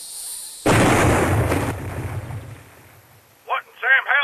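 A grenade blows up in Red vs. Blue Halo machinima: a sudden loud blast with a long rumbling decay that fades over a couple of seconds, followed by a few short voiced yelps.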